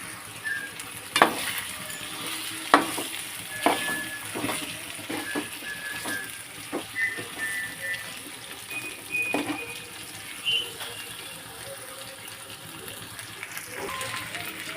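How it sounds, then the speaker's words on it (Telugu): Mutton liver curry sizzles softly in a pan while a spoon stirs it, with repeated scraping clacks against the pan over a low frying hiss and no talk. "ఇప్పుడు దీన్ని కలిపేసుకున్నాము."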